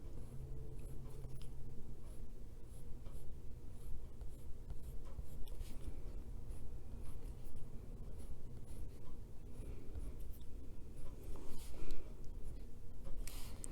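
A colored pencil scratches steadily across a paper coloring page of flowers and a butterfly, a soft continuous rubbing with short strokes, close and quiet.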